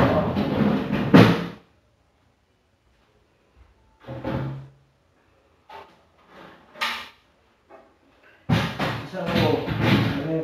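A crisper drawer is lifted, set on its wheels and lowered back into a Samsung French door refrigerator, giving several dull plastic thumps and clacks spaced a few seconds apart, close by, while someone talks between them.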